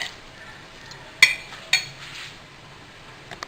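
A spoon clinks against the bowl a couple of times while spiced green potato fritter batter is mixed, soft scraping filling the gaps, with a couple of faint taps near the end.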